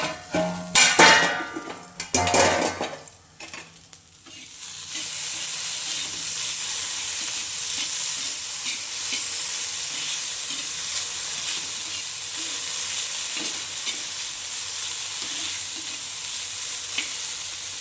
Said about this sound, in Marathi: थोडी वाफवून घेऊ आपण कमी गॅसवर